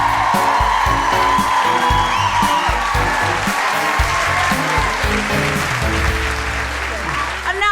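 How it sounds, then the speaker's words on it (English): Steady applause from a live podcast audience, loud and continuous, with a few cheers and a voice speaking over the clapping throughout. "keep that applause going"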